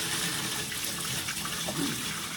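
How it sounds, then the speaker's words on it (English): Room-temperature water pours from a bowl onto a grate in a fish tank, a continuous loud, close gushing and splashing that lasts the whole moment. "I filled this bowl with about room temperature water, and I'm going to just pour it in on top of the grate"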